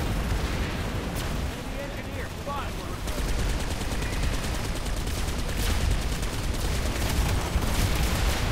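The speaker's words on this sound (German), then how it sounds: "Schießen auf mich." Dense, continuous gunfire and explosions from the sci-fi shooter game Planetside 2, a loud unbroken roar of shots and blasts throughout.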